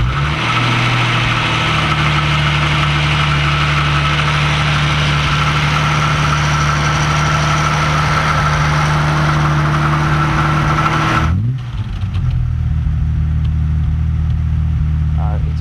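An Aston Martin DB5 inline-six engine with three carburetors idles with a deep, steady rumble and throb for over ten seconds, then the tone drops abruptly as it settles lower and continues.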